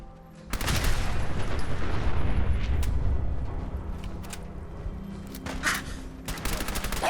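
A loud, rumbling explosion erupts in Fallout 4 and rolls on for several seconds, followed by scattered gunfire bursts and impacts.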